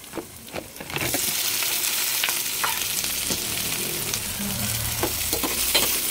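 Onion and garlic sauté in a pan for shrimp with oyster sauce. After a quiet first second, a loud, dense sizzle begins and holds steady and close, with no voices.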